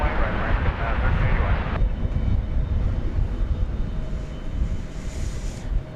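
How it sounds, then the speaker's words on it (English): A Boeing 787-9 Dreamliner arriving from Shanghai touches down on a runway at DFW Airport, a broad roar of engines and rushing wind heard from a distance, with a faint voice talking over it. "This is flight 128, just touching down from Shanghai. 7879 Dreamliner."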